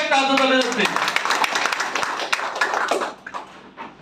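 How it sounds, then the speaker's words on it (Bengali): An audience at a health seminar claps loudly for a doctor who has just presented a device. A voice briefly speaks first, then dense clapping continues for a couple of seconds before thinning out. "ওনার জন্য জোরে একটা হাততালি দিচ্ছি।"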